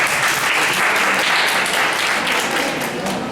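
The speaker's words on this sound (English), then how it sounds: "So big round of applause for our own state." Sustained audience applause in a lecture hall in Hyderabad, a dense, even roar of many hands clapping at once, loud and steady for the whole stretch with no speech over it.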